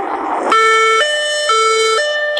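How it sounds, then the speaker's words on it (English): An ambulance siren sounds as the vehicle leaves the all-day Vans Warped Tour music festival at KeyBank Pavilion. A brief rush of noise gives way to a loud, close two-tone wail that alternates steadily about every half second. "Ambulances could be seen going in and out of KeyBank Pavilion for hours at the all-day Vans Warped Music Festival"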